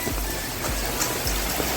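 Steady outdoor rain falling as a dog stands out in it for the first time, a constant close hiss of drops with a few soft low thumps and no voices.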